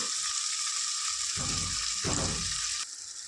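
Ground masala paste for chicken gravy sizzles steadily in a hot pan, a continuous hiss with soft stirring scrapes partway through, no talk.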